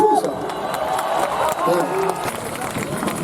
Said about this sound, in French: Ça fait des semaines et des semaines que je vous dis de ne pas m'applaudir.